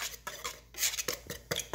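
Baking powder and salt being stirred into dry chocolate devil's food cake ingredients in a bowl, with repeated scraping and clinking of a utensil against the dish in short rhythmic bursts, close and fairly loud.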